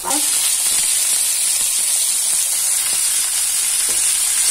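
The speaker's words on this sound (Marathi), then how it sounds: "गाजर आणि टमाटा टाकतो आणि याला छान आपण हाय फ्लेमवर यालाही आपण भाजून घेऊया" Carrots and tomato frying in a pan on a high flame give a steady, loud bright sizzle with a hiss of steam and a few faint stirring clicks throughout.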